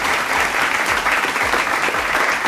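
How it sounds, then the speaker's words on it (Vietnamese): An audience at a partnership signing ceremony claps loudly and steadily, a dense wash of applause filling the hall throughout. "Một tràng pháo tay thật lớn hơn nữa dành cho các quý vị đại diện của chúng ta trên sân khấu được không ạ?"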